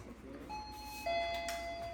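An electronic doorbell at the entrance of an apartment chimes with two steady tones, the second starting partway through, over a low room hum with no talking.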